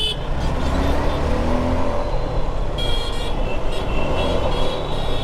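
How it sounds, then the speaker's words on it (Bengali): Busy road traffic on Sear Avenue in Kolkata: a dense, steady roar of engines with high, beeping horn tones cutting through from time to time, close and loud throughout. "পুরো ট্রাফিকে ভর্তি রাস্তা, সিয়ার এভিনিউ।"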